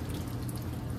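Water from a garden hose, its nozzle sealed into a 3/4 inch union, forced through a clogged AC condensation line, a steady watery rush that is faint and continuous.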